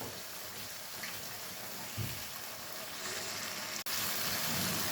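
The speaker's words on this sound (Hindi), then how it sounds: "ये देखिए कितनी अच्छी ये ना भुनी जा रही है" Chicken karahi with black pepper frying in a pan, a quiet, steady sizzle with a soft watery hiss as the liquid cooks off, and a brief sharp click near the end.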